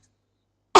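A single sharp cough bursts out loud and close near the end, after nearly a second of silence, from a streamer chatting on a live Honkai Star Rail broadcast.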